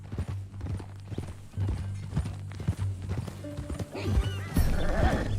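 Horse hooves clip-clop in Red Dead Redemption 2, a steady rhythm of close hoofbeats over a low droning background, with brief snorting and animal noises near the end.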